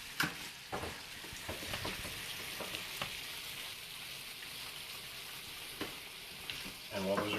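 Eggs fried over medium in a pan, a steady close sizzle and crackle with a few louder pops and scrapes, no talking over it.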